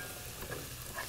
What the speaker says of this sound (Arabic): هنا قاعد نقلب البصل نبغاه يتحمر معنا